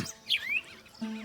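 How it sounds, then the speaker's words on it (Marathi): A morning bird call rings out in a village mango orchard, a few faint, brief chirps and a rising whistle over quiet background. "पक्षी बघा सकाळचे कसे ओरडत आहेत, जोरात ओरडत आहेत पक्षी"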